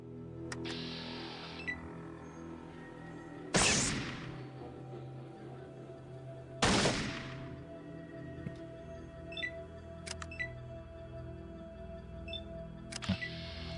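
Two sharp, loud gunshots ring out seconds apart during turn-based combat in the original Fallout game, each with a quick decaying tail over a low, steady ambient hum.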